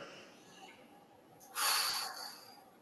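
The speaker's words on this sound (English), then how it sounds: "And then we just find some deep breaths here." A single deep breath during a gentle yoga stretch for the lower back: one airy, hissing exhale lasting about half a second, close and fairly soft against a quiet background.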